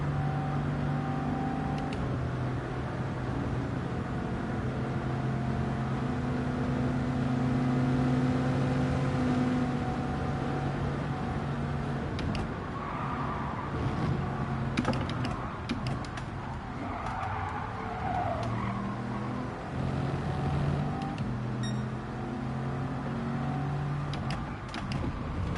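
Racing car engines in Gran Turismo 7 hum and rev steadily through the whole stretch, with shifting engine tones and occasional tyre noise, loud and continuous with no talk.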